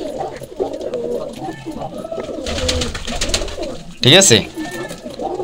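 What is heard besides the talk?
pigeons cooing in their loft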